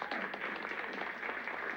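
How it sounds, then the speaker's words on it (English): Crowd applause at a party scene in the video game Immortality, a dense, even wash of clapping that holds steady throughout at moderate volume. "Everyone, a big round of applause to our star"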